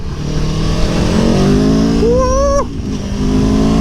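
An Aprilia Tuono V4 1100 Factory motorcycle accelerating hard, its loud engine note climbing steadily in pitch before a sudden drop at a gear change, heard up close with a short excited shout from the rider.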